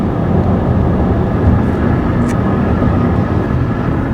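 Steady broadband tyre roar on asphalt heard from inside a Honda Civic Turbo cabin with added soundproofing, a loud constant rumble and hiss at speed, with no voices.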